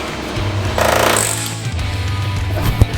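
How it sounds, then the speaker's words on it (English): A power tool cuts through thick Bondo body filler on a 1968 Camaro under rebuild, making a loud, close grinding buzz for about a second, followed by rougher scraping and a sharp knock near the end. "I'm cutting bondo."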